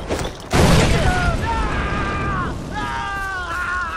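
A grenade blast in Far Cry 4 lands as a sudden heavy boom, followed by lingering rumble while shouted voices carry on over the aftermath.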